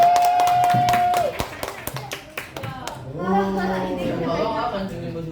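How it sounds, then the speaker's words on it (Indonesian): A crowd breaks into applause, dense overlapping claps that start sharply, then thin into scattered claps as voices and chatter rise over them. "kita beri tepuk tangan terlebih dahulu"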